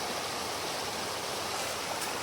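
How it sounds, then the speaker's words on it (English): A country creek full of little waterfalls rushes steadily, a dense, even wash of flowing water heard close and alone. "a creek full of little waterfalls"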